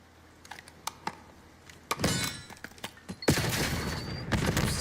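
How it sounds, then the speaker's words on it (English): Gunfire in a hardcore-mode shooter video game: scattered sharp shots, then dense bursts of rapid firing that swell louder toward the end, with no speech. "What the fuck was that shooting?"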